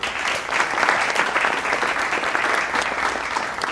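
Loud, sustained applause from a group congratulating students after a casting result, dense and even from start to finish with no speech over it.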